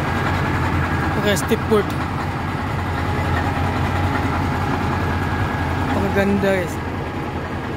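Old truck's engine idling with a steady low exhaust rumble throughout, near and constant, while someone talks over it at intervals.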